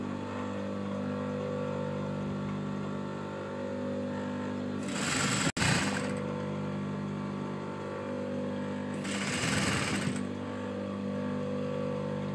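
Sewing machine attaching sleeves to a child's frill frock, a steady whirring drone running throughout with two brief louder bursts of stitching partway through.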